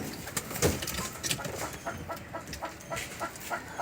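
Pigeons coo in soft, repeated low bursts close by in a pigeon loft, with faint rustling in between and no talk.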